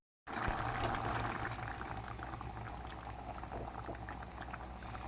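Kovakka theeyal curry boiling in a pan, a steady dense bubbling and simmering that starts abruptly and continues evenly throughout, close and fairly quiet, with no talking.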